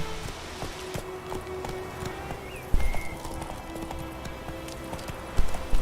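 Roach, a horse in a video game, gallops in a steady rhythm of hoofbeats, with a couple of louder thumps and faint game ambience underneath.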